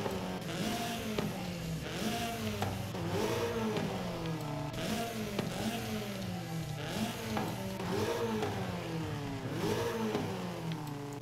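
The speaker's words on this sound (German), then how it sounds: "Auspuff, was machst du klangtechnisch?" A Renault 8 Gordini with an upgraded exhaust in Forza Horizon 5 revs repeatedly, its engine note climbing and dropping in rhythmic waves with a raspy, crackling edge, steady and loud throughout.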